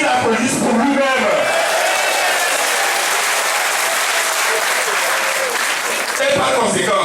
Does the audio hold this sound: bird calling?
no